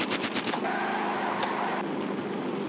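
Rapid machine-gun fire strikes a car in the vehicle combat game Interstate 76, a dense rattling burst that runs unbroken at moderate loudness.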